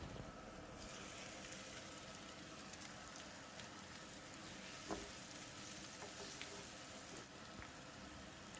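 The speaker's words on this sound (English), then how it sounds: "Onions are done, so going to add chopped tomatoes." Chopped tomatoes added to fried onions in a pan, a soft, faint continuous sizzle with a few light stirring clicks and crackles.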